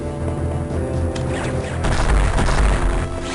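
A diffusion missile explodes in Metroid Fusion, a loud booming blast with crashing impact over a sustained rumbling game soundscape, the detonation swelling midway and lingering.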